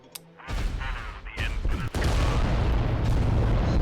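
Titan-class war machines open fire in the Adeptus Titanicus: Dominus strategy game, a dense rolling barrage of booming, crashing weapon blasts that builds in layers and stays loud and continuous throughout.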